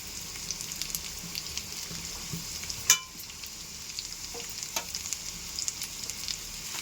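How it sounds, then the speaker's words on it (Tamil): Curry leaves dropped into hot oil with finely chopped onion and a green chili give a quiet, steady sizzle, with one sharp crackling pop near the middle and a few softer spits after it. "இப்போ கருவேப்பிலை போட்டுக்கலாம்"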